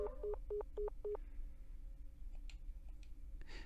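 A telephone is dialed in a horror video game: five quick, evenly spaced electronic keypad beeps, followed by faint scattered clicks and quiet background hum.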